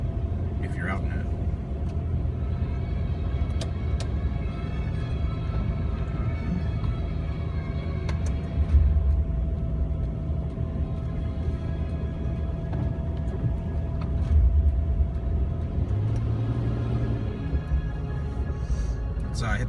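Jeep Wrangler creeping along at about 20 mph through a blizzard in Plymouth, MA, its engine a steady low rumble with road and wind noise, a couple of brief swells, under a voice talking.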